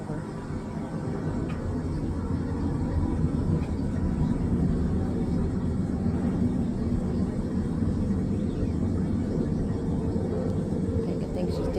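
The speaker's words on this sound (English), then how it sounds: "That's a plane flying over." An airplane passes overhead as a steady low rumbling drone that fills the whole stretch at a fairly even level, with some background noise.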